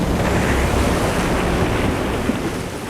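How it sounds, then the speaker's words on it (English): Large storm waves surge around a small boat at sea, a dense, steady roar of water and buffeting wind filling the short stretch without pause. "By daybreak, the waves are 4 meters high."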